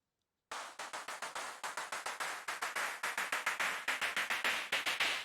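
Rhythmic pulses of filtered noise, a synth sweep chopped into a steady shaker-like pattern of about twenty quick swells, bright and moderately loud, no voices.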